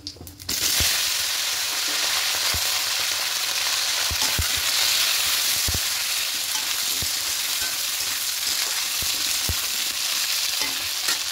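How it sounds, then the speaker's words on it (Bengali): Potatoes and tomatoes fry in a pan for a vegetarian khichuri made with rice, a loud, continuous sizzle broken by occasional clicks and scrapes of stirring, with no talking. "এবার এগুলো একটু হালকা করে একটু ভেজে নিয়েছি।"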